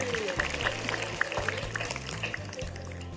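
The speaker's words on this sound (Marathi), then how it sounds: "एकदा जोरदार टाळ्या होऊन जाऊ द्या" Applause from a crowd for the winning team at a school quiz competition, steady clapping with a faint voice over a low hum, moderately distant.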